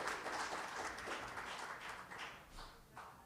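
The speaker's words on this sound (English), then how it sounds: "give yourselves a round of applause" Faint applause from a crowd at a live event near WWDC, a soft continuous patter of clapping heard from a distance that tapers slightly over a few seconds.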